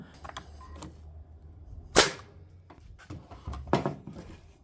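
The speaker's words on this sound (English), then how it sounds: "let's fire it through here. Nice dense hardwood" Ryobi Airwave framing nailer firing into dense dark red hardwood, two sharp loud cracks about two seconds apart among quieter handling clatter and knocks, with no talking.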